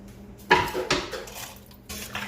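Potatoes drop into an Instant Pot, giving a few loud clattering knocks of pots and utensils that ring and scrape briefly nearby.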